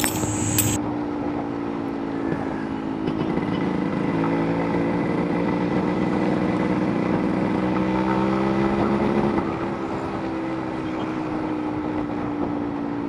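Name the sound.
restored Brutus HD-140 motorcycle engine running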